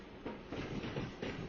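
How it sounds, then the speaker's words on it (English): A train crosses a bridge over a river with a soft, steady rumble. Faint rhythmic clacks of wheels on the rails pulse through it at a distance, and no voices are heard. "this train is passing over the river"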